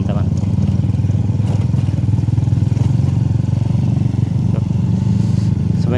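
A motorcycle rides a quiet coastal touring road near Sawarna, its engine a continuous close, steady buzzing drone with a faint rhythmic pulse, running without pause for the whole stretch.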